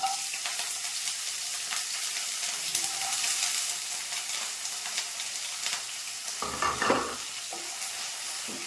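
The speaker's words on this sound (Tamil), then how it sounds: "இந்த நேரத்தில் நம்ம உரிச்சு வச்சுருக்கிற பிரண்டையை போட்டு வதக்குவோம்." Peeled pirandai, adamant creeper, sautéed in hot sesame oil gives a steady close hiss, with occasional scraping stirs and a brief louder clatter midway; no one speaks.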